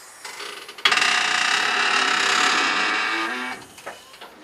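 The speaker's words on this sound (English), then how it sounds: "jacking it up. Strut comes up. And then you lower it down." A car lift strut whirs as it raises and lowers, a steady mechanical drone lasting nearly three seconds between faint clicks, heard close and fairly quiet.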